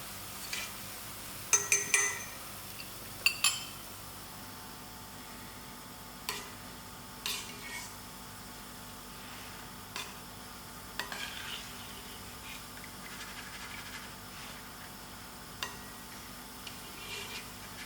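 Boondi frying in a pot of oil, a faint continuous sizzle broken by scattered ticks and clinks of a slotted spoon.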